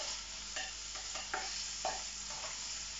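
Onions and celery fry in a pan for a slow-cooker Greek stifado, a steady soft sizzle broken by a few scraping stirs, with no voices.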